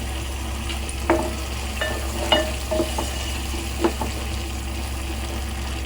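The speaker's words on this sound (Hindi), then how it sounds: "इसमें टमाटर डाल रही हूँ।" Chopped tomatoes go into a hot pan with garlic paste, setting off a steady sizzle and frying hiss under a few sharp clicks and scrapes of stirring, close and moderately loud, with no talking.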